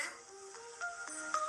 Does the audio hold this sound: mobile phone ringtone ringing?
yes